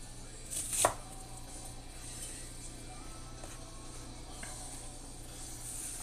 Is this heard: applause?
no